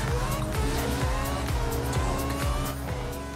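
Cars drifting in a Forza Horizon 4 drift contest, among them a Mazda Miata and a Golf with a bike on the roof, engines droning steadily under continuous squealing tires for a few seconds.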